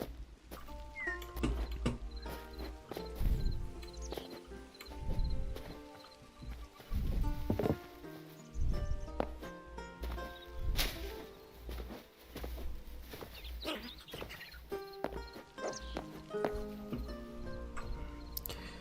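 Horse hooves clip-clopping in the video game Hytale, a steady run of close hoofbeats set against game music with melodic tones, lasting throughout with no talk.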